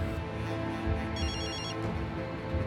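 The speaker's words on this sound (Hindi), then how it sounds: "किसका फोन है सईद" A telephone rings loudly with a repeated electronic trill, steady and close over a dense background.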